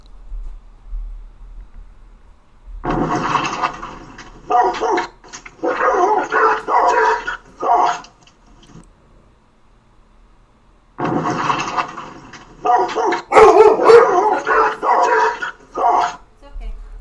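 Several dogs bark and yip in two long bursts separated by a quiet pause, loud and overlapping, with some whimpering mixed in.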